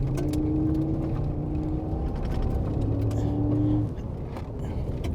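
A 2021 Ford F-150 SuperCrew truck driving onto gravel, its engine humming steadily with a low droning tone under constant road rumble, close and even, dropping slightly near the end.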